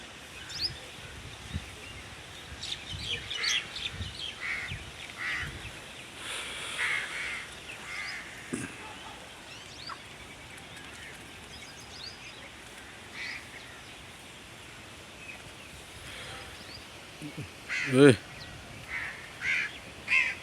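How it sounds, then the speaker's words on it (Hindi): Crows perched near a wheat field caw in scattered, repeated calls, some close and some farther off, over an outdoor ambience with someone talking intermittently and one sharper, louder burst toward the end. "कौवे बैठे हैं।"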